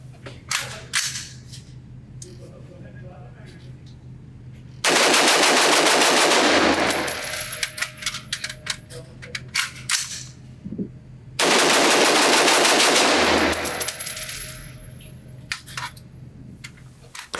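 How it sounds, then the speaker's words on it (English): An American Defense Mfg. UIC carbine fires two long bursts of rapid gunshots outdoors, each a dense, loud string of cracks, with quieter metallic clicks and handling noises between bursts. "I'm also curious if I can shoot this trigger really fast in quick bursts."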